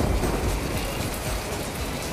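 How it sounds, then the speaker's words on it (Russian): Steady, dense rain falling outdoors during a thunderstorm, a loud continuous hiss of drops on surfaces with no gaps, and no voices. "к счастью, дождь заканчивается"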